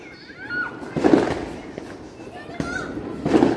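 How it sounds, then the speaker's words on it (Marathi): Diwali firecrackers burst outdoors with two sharp bangs about a second and a half apart, followed by crackling and fizzing amid voices and lively background activity. "सगळे फटाके फोडणं चालू आहे इकडे"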